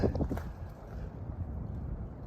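Wind gusts through a gap along the Appalachian Trail between Newfound Gap and Clingmans Dome, a steady low rushing roar buffeting the microphone, with no voices.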